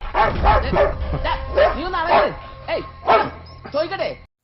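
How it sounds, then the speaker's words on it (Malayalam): A dog barks angrily in a run of sharp, close barks with short gaps between them, and a voice can be heard alongside. "പട്ടി ദേഷ്യത്തോടെ കുരയ്ക്കാൻ തുടങ്ങുകയാണ്"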